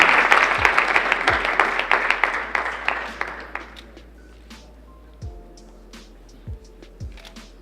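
Audience applause at a university challenge awards ceremony, a sustained burst of many hands clapping that thins out and fades to scattered claps, with no talk over it.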